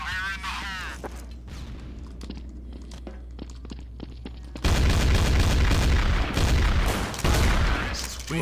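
A grenade in Counter-Strike: Source detonates with a sudden loud, heavy blast midway, followed by rumbling gunfire and footsteps in the game, after a quieter stretch of in-game sounds.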